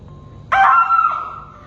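A girl lets out one sharp, loud scream that holds for about a second, then fades over a quiet background.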